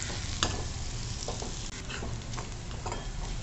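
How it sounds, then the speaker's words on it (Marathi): Onion and spices sizzle in a pan for egg bhurji, a continuous soft frying hiss broken by light scraping and stirring clicks, close and quiet with no one speaking. "आता हे छान परतवून घ्यायचं"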